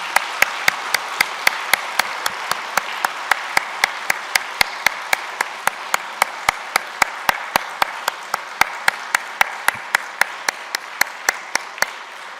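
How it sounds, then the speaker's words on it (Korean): A church congregation at a Christmas service claps in a steady rhythmic beat, crisp even claps repeating several times a second close to the microphone for the whole stretch. "감사한 마음을 담아서 한 번 더 크게 박수."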